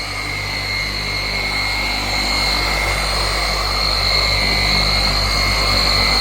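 A floor polishing machine drones steadily across an engineered wood floor, a loud, constant motor hum with a deep low rumble and sustained high tonal whine, unbroken throughout.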